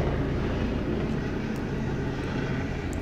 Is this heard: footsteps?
no